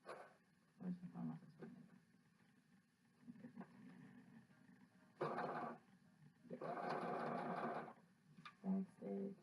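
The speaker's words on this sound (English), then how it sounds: "my sewing machine is really weird. It's going." A sewing machine whirs in short bursts and then a longer steady run, close by, with a voice talking quietly between the stitching.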